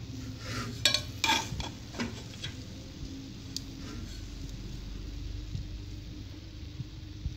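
Mutanjan rice is mixed in a pot: a few spoon-on-metal clinks near the start, then soft, quiet rustling of grains being turned over.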